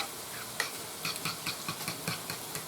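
Pork chops sautéing in a skillet, a soft, quiet sizzle broken by a series of short scraping and stirring clicks in a loose rhythm, close and without voices.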